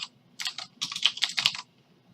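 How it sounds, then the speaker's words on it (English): A computer keyboard is typed on in short bursts of crisp, close keystrokes, with a quick flurry of clicks near the middle and quiet before and after. "So just gonna go ahead and type in prg hour required"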